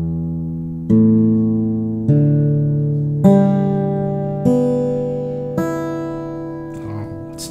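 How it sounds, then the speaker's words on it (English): A 1970 Japanese-made Pro Martin W-200 acoustic guitar, played dry through a simple microphone: six clear plucked notes or chords spaced about a second apart, each ringing and decaying before the next. "So this is the sound of this guitar."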